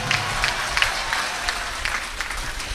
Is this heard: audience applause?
yes